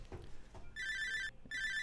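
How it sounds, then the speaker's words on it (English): A mobile phone ringtone sounds as a bright, steady electronic tone in two bursts with a short gap between, over a quiet room after a few brief muffled sounds. "someone's phone is going off"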